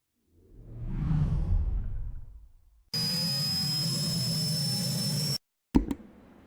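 Synthetic fighter jet engine effect: a swelling rush that rises and fades, then a steady loud roar with a high whine, cut off abruptly and followed by a short burst.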